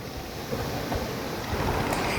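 Sea waves wash and rush onto a sunny beach where a small boat sits near the shore, a steady broadband surf roar with slight wind buffeting and no talking.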